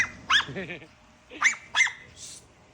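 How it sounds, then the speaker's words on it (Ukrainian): A dog barks on a roof at a mini zoo, giving several sharp yips and barks spread across the moment, with a brief whimpering bark in between, fairly close and loud. "Собака гавкає на криші."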